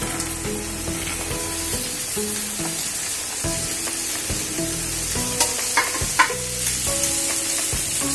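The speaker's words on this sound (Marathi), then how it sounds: "आपण ही भेंडी घालूया त्याच्यात।" Okra being stirred while it fries in hot oil, a steady bright sizzle with clinks and scrapes of the spoon throughout, loud and close, without talk.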